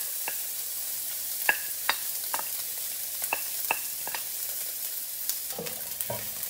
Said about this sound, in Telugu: ఇప్పుడు ఆనియన్స్ వేసుకుందాము